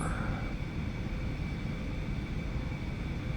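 An Aerobask Eclipse 550 jet taxiing in a flight simulator, heard as a steady, low engine rumble and whine that holds even and unbroken throughout at moderate loudness.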